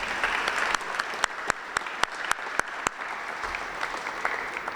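Audience applause at a Black History Month celebration honoring the Freedom House Ambulance Service team, a steady crowd patter with several sharp, louder individual claps standing out near the microphone.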